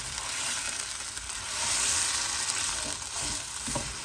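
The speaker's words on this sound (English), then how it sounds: "We'll give this all a really good mix." Fiji-style dry goat curry sizzles steadily and loudly in a frying pan while a spoon stirs it through, and the hiss swells briefly partway through with no voices.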